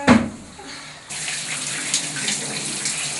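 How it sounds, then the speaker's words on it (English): Shower water comes on with a short knock and then pours in a steady, close, bright hiss that runs without a break in a family home in Guatemala. "We take a shower and brush our teeth."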